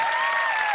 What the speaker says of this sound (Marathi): जोरदार टाळ्या श्रीकांत मस्की यांच्यासाठी